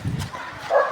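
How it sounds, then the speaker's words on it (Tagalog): A dog near a school gives a quick bark followed by a short yip, both close and clear within a fraction of a second. "May aso"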